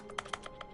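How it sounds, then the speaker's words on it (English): Quick, light clicks of typing on a computer keyboard, about five close keystrokes in under a second, soft and near. "Oh, I'm typing."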